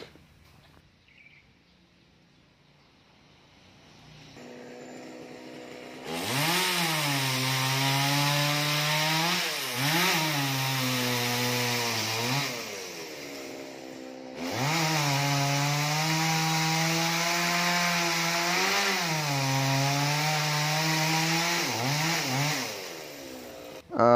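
A chainsaw cuts branches from a large African mahogany tree above a roof, run by a worker who has climbed up into it. The engine idles quietly, then roars loudly through two long cutting passes with dips in pitch as the blade bites.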